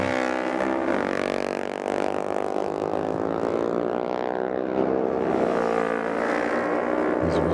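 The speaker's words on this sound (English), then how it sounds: "most of them will be that Ninja 500, Ninja 400 type of motorcycle" Ninja 400 and Ninja 500 supersport motorcycles, many in stock form, race around a CVMA track on the first lap. Their engines roar loudly and continuously, with pitch climbing and falling through the gears as bikes pass close by.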